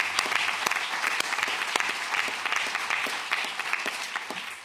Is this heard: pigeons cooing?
no